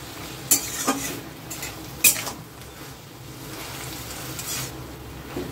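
Soft Bengal arum leaves and stalks are stir-fried uncovered in a pan, with a low steady sizzle beneath a few sharp spatula scrapes and clinks against the metal.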